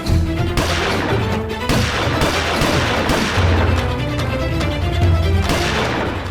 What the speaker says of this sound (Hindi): पटाखे नहीं फोड़ रहे हैं प्रिय, गोलियां चला रहे हैं